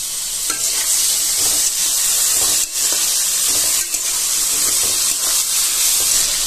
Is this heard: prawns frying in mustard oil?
yes